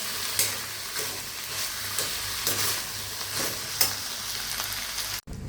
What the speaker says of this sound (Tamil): தட்டிட்டு நல்லா கிளறி விடுங்க.